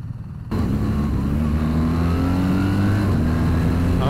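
A BMW R 1300 GS motorcycle accelerates hard with clutchless quick shifts up to about 6,000 RPM, its engine roaring loud and steady with wind noise throughout, no talking.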